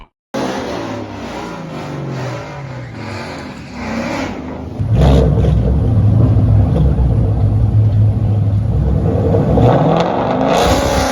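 Ford Mustangs, a 7.3L against a 5.0L, rev and roar at a race track, engines climbing in pitch and then holding a loud, continuous rumble as they accelerate close by.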